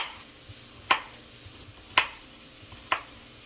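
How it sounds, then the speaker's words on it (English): A knife slices through a mini cucumber on a board, three crisp, evenly spaced cuts about a second apart, close and clear against a quiet background. "So pretty much I'm going to just cut the ends and cut it into slices."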